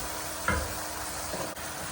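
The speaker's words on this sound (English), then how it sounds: "Halfway through the browning, add your onions and peppers." Onions and peppers hissing in a pan of browning meat for pasta Bolognese: a soft, even sizzle with a couple of faint stirring knocks, close but low in level.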